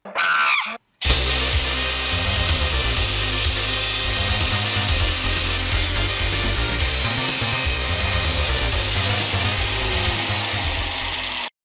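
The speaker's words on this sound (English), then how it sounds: "I actually have to cut like a key into it." A power tool cuts a key into a 3D printed motorcycle clutch basket held in a bench vise, whining loudly and continuously for about ten seconds after a brief start.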